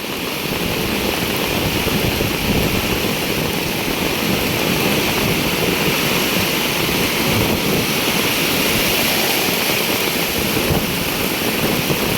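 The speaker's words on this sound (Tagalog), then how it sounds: "Grabe yung ulan, saka alon." Heavy monsoon rain pours down alongside crashing sea waves, forming a loud, dense, unbroken roar with wind buffeting the microphone and no voices.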